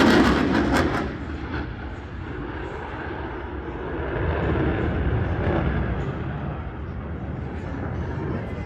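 An F-16 Fighting Falcon flying a maneuver at the 2025 Columbus Air Show, its broad jet roar rumbling steadily throughout, with a louder burst at the start and a swell midway, all at moderate distance.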